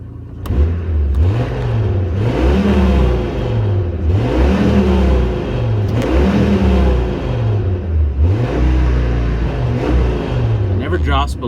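A Dodge Ram V10 engine revs repeatedly around 2,000 RPM, its pitch rising and falling in steady cycles, loud and close, with a voice talking over it.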